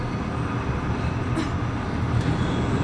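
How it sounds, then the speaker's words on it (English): A tram arriving at Nest in the Resident Evil 2 Remake video game rumbles steadily and loudly, with a dense rolling rail noise and faint high squeals, no talking. "This tram is bound for Nest."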